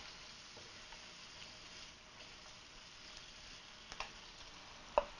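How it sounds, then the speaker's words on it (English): Onion and bacon fry gently in a pan, a faint, steady sizzle with scattered ticks and a sharper clink near the end, heard alone without talk. "we're going to cook this onion and bacon and everything until the onions are clear"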